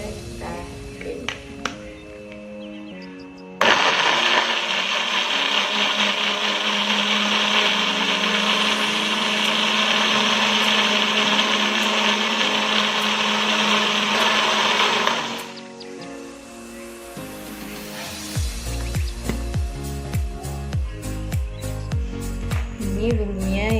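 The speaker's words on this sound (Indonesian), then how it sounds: "kita tambahkan sedikit air untuk memblendernya, kira-kira 50 ml. Saja kita blend." A kitchen blender whirs steadily for about twelve seconds, blending spices with roughly 50 ml of water for an Acehnese egg dish, starting abruptly after some small kitchen clatter and stopping into quieter handling noises.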